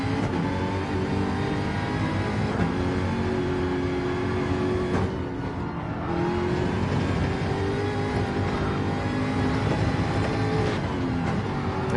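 Race car accelerating on the Nürburgring during a four-hour endurance race, a loud sustained engine drone climbing steadily in pitch as power comes on, with a brief dip midway, no voices.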